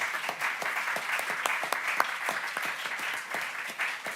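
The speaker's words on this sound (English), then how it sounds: "Give them a round of applause, please." An audience at a candidates forum in Capitola applauds, a crisp sustained patter of many hands clapping at moderate volume for several seconds.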